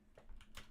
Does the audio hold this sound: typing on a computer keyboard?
yes